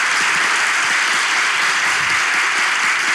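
A studio audience at a Turkish television relationship-quiz show bursts into loud, dense applause, a continuous wash of many hands clapping close and full for the whole stretch with no voices on top.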